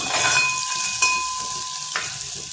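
A pinch of asafoetida (hing) dropped into hot oil with curry leaves at home crackles and sizzles loudly and close, a steady frying hiss for a couple of seconds.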